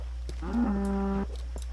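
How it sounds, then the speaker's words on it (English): A Minecraft cow stuck in water lets out a single clear, drawn-out moo lasting under a second over a low steady hum, with a few faint clicks around it. "this poor cow stuck in the water"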